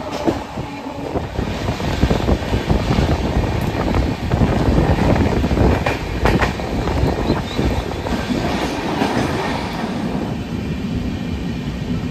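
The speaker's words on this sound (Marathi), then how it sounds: "चला फायनली ट्रेन निघाली." A Deccan Express train rolls out of Pune station along the rails with a heavy rumble and rhythmic clatter of wheels, plus some wind buffeting the microphone.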